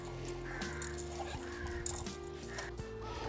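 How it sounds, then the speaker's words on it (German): Crow cawing in an outdoor setting, several harsh repeated caws at moderate distance over low background noise, with faint voices nearby. "das ist aber eine Krähe, was ich da gerade höre."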